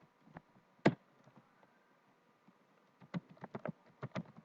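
Keys pressed on a computer keyboard while writing in a Linux terminal editor, a few scattered clicks, one louder clack, then a quick burst of close, quiet taps, with no speech.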